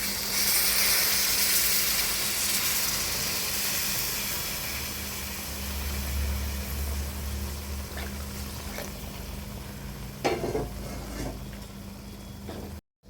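Tamarind water simmers and sizzles in oil with a traditional garlic pickle, a steady close hiss with bubbling and a few soft clanks near the end.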